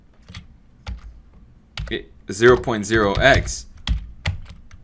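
Crisp computer keyboard keystrokes and clicks, entered while applying a Control-Alt-Shift number-formatting shortcut, come in sparse taps at the start and end, with a person speaking clearly over the middle stretch.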